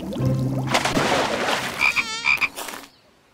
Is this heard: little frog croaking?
yes